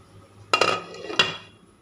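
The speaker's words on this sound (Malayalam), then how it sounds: "നമുക്കൊന്ന് മൂടി വയ്ക്കാം." A metal lid goes onto a pot of boiling soya chunks roast, two sharp clanks close up about half a second apart, each trailing a short ringing rattle, with no talk.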